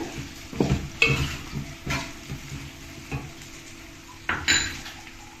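Chopped onions and green chillies stirred in a pan, several distinct clanks and scrapes of a spoon against metal at irregular intervals over a low, steady sizzle.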